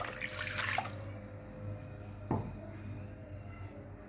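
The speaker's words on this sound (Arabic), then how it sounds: "هحط بقى كوبايه لبن" A cup of milk is poured into beaten eggs: a brief, close splashing pour, followed by quieter kitchen noise and a single small knock.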